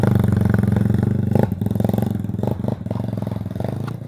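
A Kawasaki KLE motorcycle engine runs close by on an enduro trail, loud and throbbing with a rapid, pulsing idle and brief revving dips.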